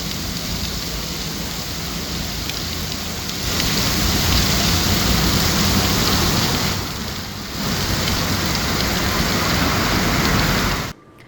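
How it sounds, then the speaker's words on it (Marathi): Heavy monsoon rain pours and water leaks inside the Kashedi Ghat tunnel on the Mumbai-Goa highway, a dense continuous roaring hiss that swells louder midway and cuts off abruptly at the end. "सतत पडणाऱ्या मुसळधार पावसामुळे या ठिकाणी गळती होत असल्याचं आपल्याला बघायला मिळतं"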